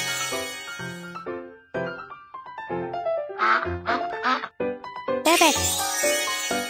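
A cartoon duck quacks in a children's hearing-test game, a run of bright, clear quacks amid chimes and a child-like voice, near and loud, with cheerful jingly tones before and after.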